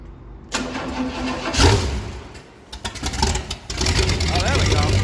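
A junkyard 1978 Pontiac 400 V8 cranks and catches after a battery swap, its engine noise rising and settling into a steady close rumble while people talk around it.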